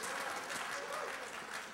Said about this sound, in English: Oh yeah, you applaud because you think that's a great idea.